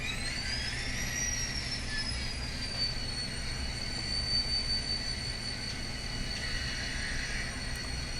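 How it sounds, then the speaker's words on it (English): An N-scale SD40-2 model locomotive sound decoder throttling up: a continuous diesel engine drone with high whining tones that climb and then hold, steady and fairly quiet, with no talking. "We'll turn on the sound and we'll see how the throttle up actually works."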